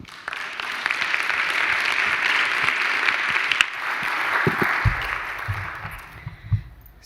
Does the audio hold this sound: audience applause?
yes